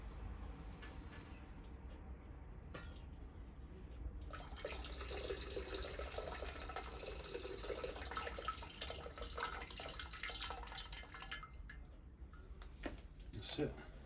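Tap water runs steadily into a sink for a final rinse in lye and sugar processing, a continuous close splashing flow that swells midway, with occasional small knocks and clinks.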